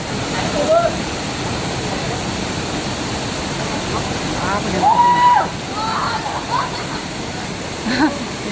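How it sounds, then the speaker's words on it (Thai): Steady, loud rush of a tall, high-volume natural waterfall in Thailand's forested hills pouring continuously, with faint shouts and voices now and then over the roar. "มีน้ำเยอะน้ำตกสูง"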